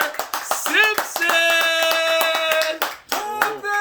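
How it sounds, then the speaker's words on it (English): Clapping from a talk-show studio audience rings out beneath loud, excited voices and cheers as a guest is welcomed, the sharp hand claps scattered through the shouting. "please give a big, warm round of applause for Shooter Simpson"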